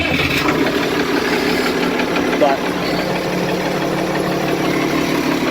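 A 1586 tractor engine idles steadily with a constant low rumble and vibration, close and loud throughout, while someone talks over it.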